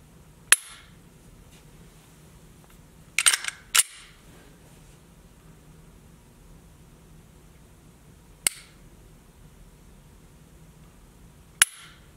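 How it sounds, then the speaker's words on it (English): A Glock 43 pistol's trigger is pulled, producing sharp, isolated clicks spaced seconds apart, including a quick double click, each loud and close against a quiet background. "So let's take a look at the trigger pull."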